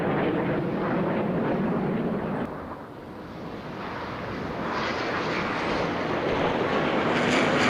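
Aerobatic display jets fly synchro double rolls at the Goodwood Festival of Speed, a broad roaring rush that dips briefly then swells again as they pass, with steady wind noise and no voices.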